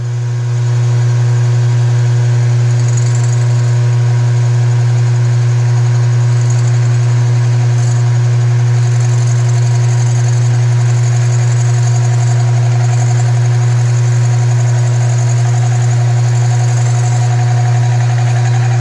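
Bridgeport milling machine cutting a cylinder base by hand, a loud, steady motor hum with a strong low drone that runs unbroken throughout, close up and with no voices.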